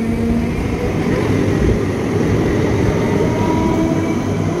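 A local passenger train rumbles steadily as it pulls away, a continuous low, loud rolling drone with no voices.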